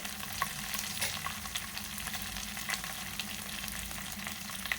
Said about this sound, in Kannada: ಇದಿಷ್ಟನ್ನು ಚೆನ್ನಾಗಿ ಫ್ರೈ ಮಾಡ್ಕೊಳ್ಳಿ.